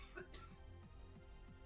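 A person coughs a few times in quick succession, low and muffled beneath podcast conversation, the coughs recurring at a steady rhythm.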